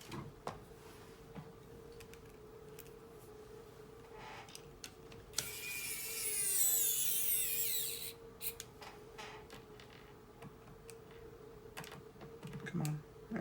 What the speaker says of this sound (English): flip it over and start putting in the screws